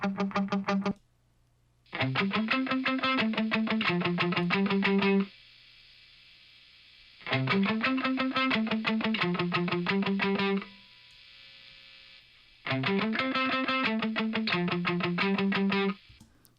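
A musical phrase run through early-reflections reverb from the Waves TrueVerb plugin on the left side, played three times with short pauses and a faint ambient tail between passes.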